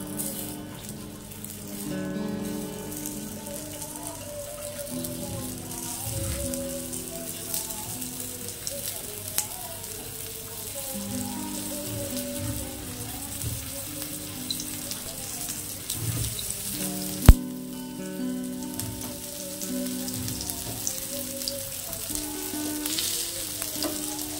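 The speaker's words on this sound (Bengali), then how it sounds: "তেল গরম হয়ে গেছে, টিক্কিগুলো দিয়ে দেব।" Sweet corn tikkis fry in a little hot oil with a continuous close sizzle and occasional clinks from a utensil, steady throughout with light background tones.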